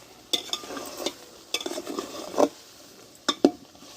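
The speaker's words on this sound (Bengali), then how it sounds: "তবু আমি এইভাবে একটু নাড়াচাড়া করে নেবো" Goat meat curry masala is stirred in a pan, with scattered, sharp scrapes and knocks of a spoon against the pan separated by quieter moments and a light sizzle underneath.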